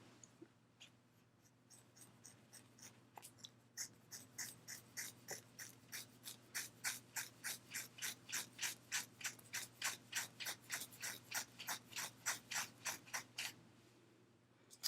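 Scissors snip through hair in a long, steady run of close, crisp cuts that grow louder and more regular, with no talking.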